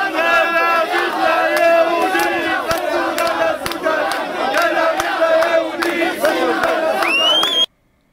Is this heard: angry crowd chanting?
yes